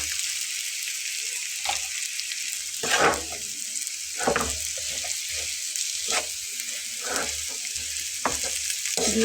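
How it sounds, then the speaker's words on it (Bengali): Boiled mashed potato being stirred and mixed in a frying pan, with a steady sizzle and repeated scraping strokes of a spatula at close range, and no talking. "এভাবে আলুটাকে খুব ভালো করে মিলিয়ে"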